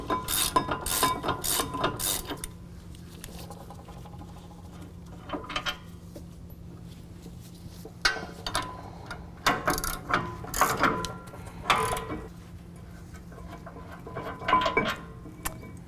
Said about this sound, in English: we're going to remove the two 24mm bolts in the back here that are holding our bracket to our